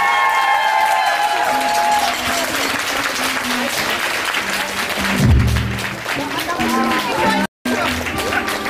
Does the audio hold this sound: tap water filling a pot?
no